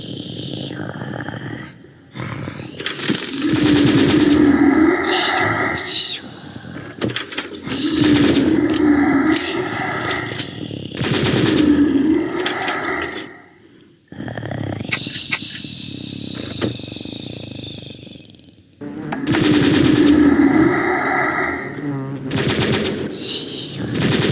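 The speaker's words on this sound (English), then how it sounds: "Use the machine gun more. The machine gun's very good. But I like how it sounds and how it looks." Machine gun fire in the indie video game Whisker Wanderlust: loud repeated bursts of automatic fire in several long stretches, broken by short pauses, with game sounds and no talk.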